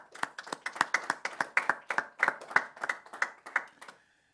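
A small audience's round of applause for a speaker at a human rights panel discussion, sparse and fairly faint, with distinct individual claps in a loose rhythm that trails off into silence.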